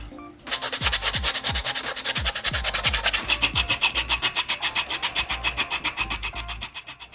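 A carved wooden crankbait lure is sanded round by hand, making a close, steady rasping with quick rhythmic back-and-forth strokes that continue without pause and with no talking.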